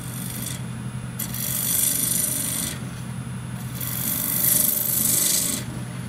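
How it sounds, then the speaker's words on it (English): A spindle gouge cuts a yew hollow form spinning on a wood lathe, giving a steady, loud rasping scrape that swells and eases in long passes, with no voices. "I'm going to start off with the 9mm or 3/8 spindle gouge just to clear out a little bit of this"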